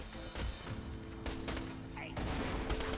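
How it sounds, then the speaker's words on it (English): Rapid bursts of video-game gunfire rattle through a hectic firefight on a hillside, dense and continuous with a few heavier thumps mixed in, sitting loud in a busy game soundscape. "I'm getting shot by something."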